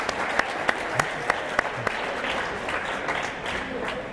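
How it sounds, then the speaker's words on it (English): Crowd in a school gymnasium applauding an injured high school wrestler as he gets back up: sustained, moderately loud clapping with a few sharp individual claps early, fading slightly near the end, with faint voices beneath. "It's a nice applause for the crowd"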